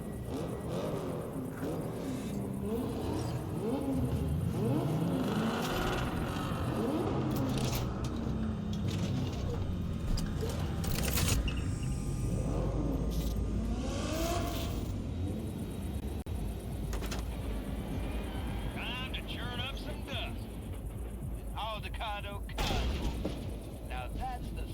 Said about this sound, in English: Start your engines, folks.